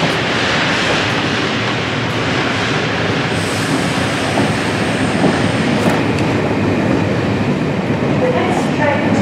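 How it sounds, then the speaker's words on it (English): Steam train on the Santa Steam Express heard from on board, a loud continuous rumble and roar of running wheels and engine noise with no pause throughout. "And we're off on the Santa Steam Express."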